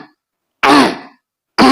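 A man clears his throat twice, two short gruff bursts a second apart after a brief trailing vocal sound, close and loud.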